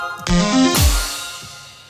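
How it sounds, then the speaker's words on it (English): A complextro synth sound processed with a Gross Beat backwards glitch effect: a swelling, reversed-sounding rush that rises, then slides down into a heavy low thump before fading out, loud and alone. "notice how it's kind of a backwards effect."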